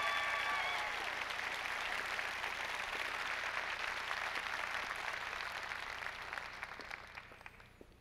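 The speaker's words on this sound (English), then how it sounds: "Please, a round of applause." Sustained applause from a large audience at a county government State of the County event welcoming a district supervisor, steady and full for several seconds before tapering off near the end.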